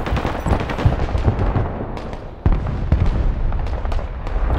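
Repeated artillery shelling in the video game Broken Arrow during a 5v5 match, a dense run of loud booming blasts and crackling impacts, with a sharper heavy strike midway and continuous rumbling between them.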